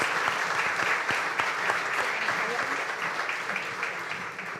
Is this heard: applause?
yes